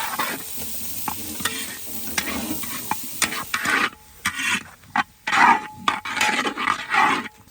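Loud sizzling of large chopped onions frying in hot oil for Goan fish curry, with stirring and scraping of a utensil in the pan, close up.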